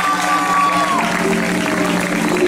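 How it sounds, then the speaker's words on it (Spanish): Audience at a Peñaranda Leal family gathering's cultural event applauds a second-place singer, steady dense clapping filling the room with a faint sustained tone and background voices underneath. "el fuerte aplauso para ella"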